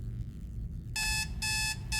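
An alarm clock in the Motel video game goes off after a quiet stretch, ringing in bright, insistent bursts with short gaps between them.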